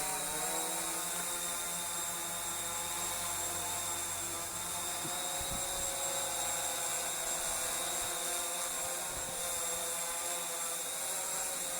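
An ACME Zoopa Evo Q550 quadcopter drone hovering outdoors near a tree, a loud continuous high-pitched rotor whine with steady buzzing harmonics throughout.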